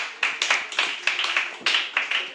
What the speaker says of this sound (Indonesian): Tepuk tangan teman-teman untuk Pak Hendy malam ini.